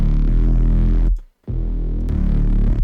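Thick, sustained synth sine bass from a future bass drop, played dry without distortion or effects, droning loud and alone, with a brief cut to silence partway through before the low tone returns.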